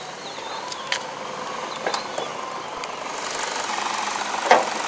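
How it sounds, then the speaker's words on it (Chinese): A 2015 Peugeot 208 with a 1.6-litre naturally aspirated VTi engine idles quietly with a steady, low hum and faint ticking, plus a few small clicks nearby. "哇，很安静的一副引擎啊！"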